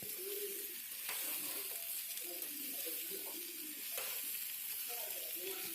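Vegetables fry in a pan for an Assamese fish curry with a faint, steady sizzle that runs throughout, while birds coo softly in the background.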